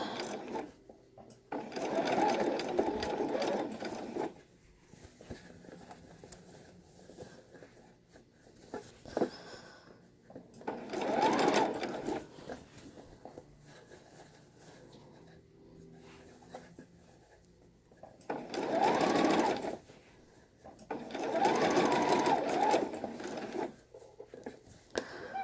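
A sewing machine stitching layers of dress fabric for a girl's Civil War era dress, running in several bursts of steady whirring with quiet pauses between them, close and fairly loud.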